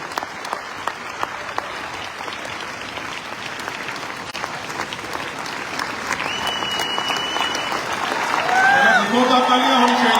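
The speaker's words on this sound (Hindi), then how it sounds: "जोरदार तालियों के साथ" A crowd at a Vestige event in Bali applauds with dense, sustained clapping that swells louder toward the end, with voices and cheers rising above it.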